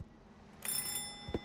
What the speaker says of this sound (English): On the deck and press the bell three times.